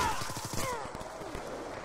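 An automated sentry gun in Black Ops 2 rattles off a rapid string of closely spaced shots, moderately loud, over game ambience with a faint voice underneath.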